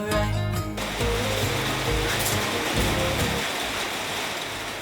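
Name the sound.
heavy rain pouring on a tin shed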